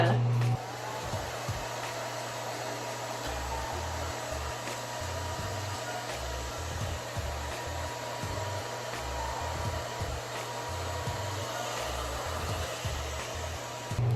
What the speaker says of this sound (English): we got the blow dryer handy and we're going to blow dry these lashes down